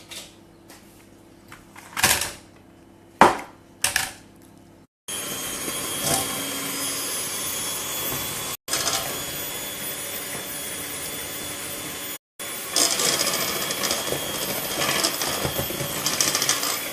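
An electric hand mixer beats eggs for a grapefruit-lemon tart batter, starting with a few short bursts and then running as a loud, steady whir in long stretches broken by brief pauses.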